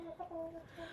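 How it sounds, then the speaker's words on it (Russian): Soft, brief clucking from Marans roosters kept in an indoor coop, a few short tonal calls close by with no talking. "Поэтому петухи у меня здесь."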